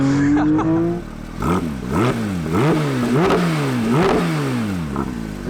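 Porsche 911 GT3 with the Manthey racing package on a track, its exhaust rising and falling through rapid rev sweeps and shifts, loud and close from inside the car, a sharp flat-six wail with clattering overtones and no talk.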